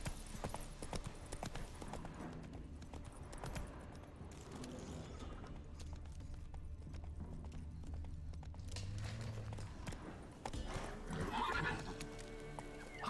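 Roach the horse gallops in The Witcher 3, with rhythmic hoofbeats pounding steadily along and a neigh or whinny near the end, set against ambient game sound.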